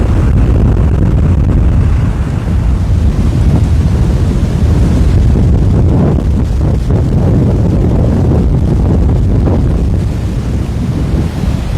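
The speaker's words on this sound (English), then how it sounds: "Boy, there's nothing blocking this wind." Strong, constant wind in Hawaii near Waikiki roaring and buffeting the microphone throughout, with no voices.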